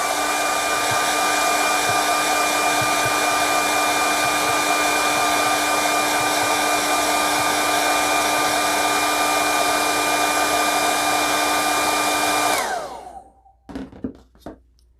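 A hair dryer runs loud and steady for about twelve seconds, blowing on freshly brushed white paint, then cuts off, leaving a few faint knocks and handling sounds.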